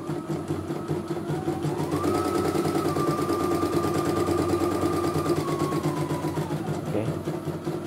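An E900 embroidery machine runs a test, giving a steady mechanical hum and rapid needle chatter. A rising whine holds for several seconds and then falls away, all at an even, moderate level close by.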